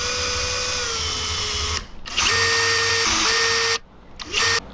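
A power drill with a half-inch Forstner bit whines at a steady high pitch, bogging down as the bit bites into wood, stopping briefly twice between runs.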